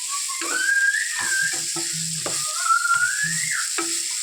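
Mutton brain fry with tomato being stirred in a pan: soft scraping taps and a light sizzle, under a wavering high whistling tone that rises and falls twice.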